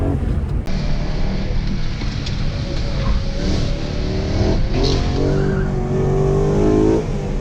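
A BMW M3 E92 slides with tires skidding and squealing over a loud, steady engine roar, close and continuous throughout.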